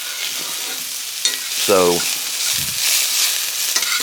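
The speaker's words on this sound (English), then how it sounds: "I'm almost just stir frying them." Shrimp stir frying in a pan on high heat, a loud continuous sizzle with stirring scrapes, and someone briefly speaking over it.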